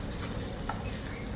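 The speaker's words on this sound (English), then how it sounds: "you have to stir fry it very well so that it will be properly mixed" Spaghetti is stir-fried with spices and oil, giving a faint, steady sizzle with soft stirring noises throughout and no voices.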